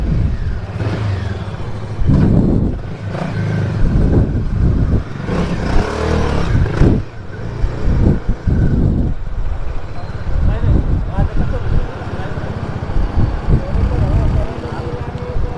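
A Bajaj Dominar 400 motorcycle on a short test ride, its engine revving and pulling in repeated surges with gear changes, heard close up as a rider talks intermittently over it.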